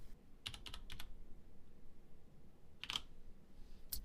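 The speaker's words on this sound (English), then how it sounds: "Type the complete value." Typing on a MEGA65 computer keyboard: a few quick key clicks in a short burst, then a couple of isolated keypresses after a pause, close and fairly faint over a quiet background hum.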